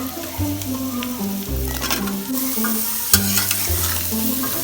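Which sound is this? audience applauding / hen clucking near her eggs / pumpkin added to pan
pumpkin added to pan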